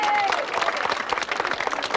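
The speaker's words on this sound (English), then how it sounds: "We have a round of applause for his appointment." An audience at an evening event applauds St Helens Saints' new rugby league captain, Bobby Goulding, with brisk close clapping and crowd murmur mixed with voices.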